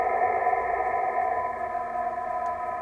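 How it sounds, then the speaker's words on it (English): A PSK digital radio signal is received on a Yaesu FT-450 transceiver with the background noise filtered out, leaving a steady, clean set of stacked tones that hums continuously at even volume with no voices. "I just took out all the noise, all the hash, the white noise, and just had that PSK signal in there"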